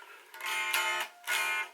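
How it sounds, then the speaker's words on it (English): Close acoustic-style guitar strumming in a gentle pattern for a song, with a few quick brushed strums, a short pause, then another full strum ringing out. "we're going to have a strumming pattern that goes like..."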